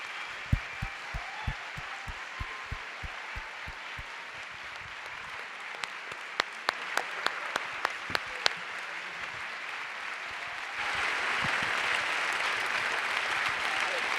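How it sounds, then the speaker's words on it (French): Audience applause after an evening talk on forest guardians beneath the canopy, starting as a few distinct claps, then settling into sustained clapping from a seated crowd that swells louder toward the end. "Je voudrais des tonnerres d'applaudissements, s'il vous plaît."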